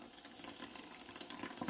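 Lukewarm water streams steadily from a kitchen tap to rinse pork casings, a continuous close hiss and splash with small fluctuations and no voices.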